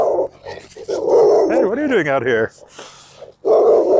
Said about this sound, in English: Dog got out of his fence there.